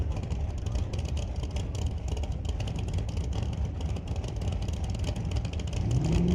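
Big block Chevrolet drag racing engine on nitrous at Mission Raceway Park, a loud continuous rumbling rev with rough clattering texture, climbing in pitch toward the end.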